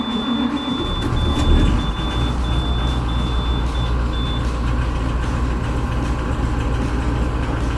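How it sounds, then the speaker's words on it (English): A school bus engine turns over and settles into a steady, rumbling idle, with a repeating reversing-style beep chirping through the first few seconds; no one speaks. "Let's fire the bus up for a while."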